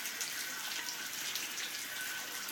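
Rain falls steadily outdoors onto a child running around in it, making an even, hissing patter that is fairly faint and close.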